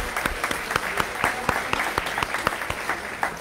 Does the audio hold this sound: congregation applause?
yes